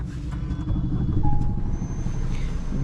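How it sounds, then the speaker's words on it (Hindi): A new 2025 Maruti Suzuki Swift petrol car runs with a steady, close, low engine rumble that holds evenly for about three seconds, with no talking. "गाड़ी एक बार स्टार्ट करते हैं और गाड़ी की इंजन नॉइज एक बार सुन लेते हैं"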